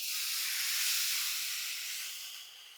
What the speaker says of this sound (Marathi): यामध्ये घालू अर्धी वाटी पाणी